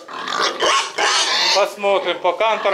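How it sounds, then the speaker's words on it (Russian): Sows grunt in a farm pen: rough, close oinks and snorts rise and fall throughout, mixed in with a person's talking. "Посмотрю, какие свиноматки, чистый кантор."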